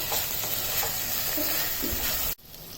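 Vegetables for a Tamil Nadu-style veg biryani sizzle loudly and steadily in a pan with stirring scrapes, then the frying noise cuts off abruptly near the end.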